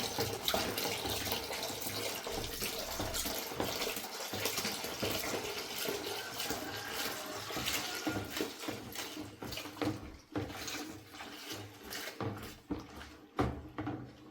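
Liquids for homemade dish wash are poured and mixed, a continuous close gushing splash that runs steadily before breaking into uneven sloshing and clinks near the end.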